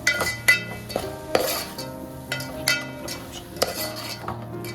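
A utensil stirs spices through a pot of mango pulusu, giving a series of close metallic scrapes and clinks against the pot at an uneven rhythm, with no voices.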